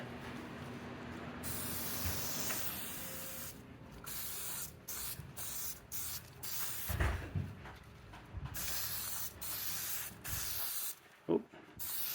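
Spray paint goes onto a battery tray air deflector in a series of short, close hissing bursts separated by brief pauses, with no talking.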